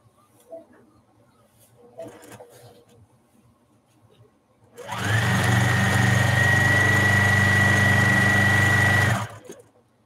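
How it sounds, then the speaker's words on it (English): A sewing machine stitches craft items for a craft fair, starting up after quiet handling noises and running steadily at a loud, even whir for about four seconds before stopping abruptly. "Just sewing all these."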